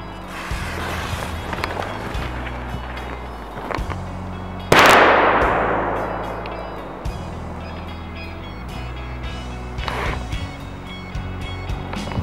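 An airsoft replica grenade bursts with one loud, sharp bang that decays into a long hissing tail, amid steady background rumble and faint scuffing movement.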